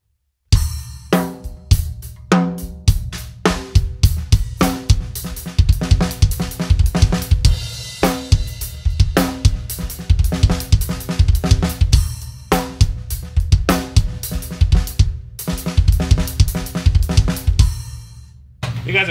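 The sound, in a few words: drum kit linear fill with right hand on hi-hat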